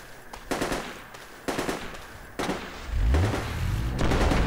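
.50 calibre machine gun fire in the military shooter game Project Reality comes as three loud, heavy bursts of rapid shots, followed by a deep rumbling engine-like roar that rises and lingers at the end.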